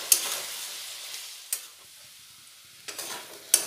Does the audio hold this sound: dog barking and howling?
no